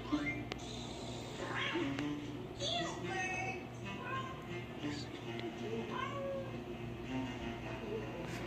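Children imitating cats with a voice, giving a series of high, drawn-out meows and wavering cries in a cartoon setting, moderately faint over a steady background hum.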